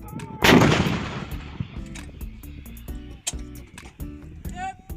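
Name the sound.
artillery gun firing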